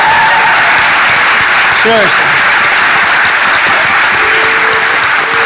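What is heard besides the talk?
audience applause at DEF CON 21 closing ceremony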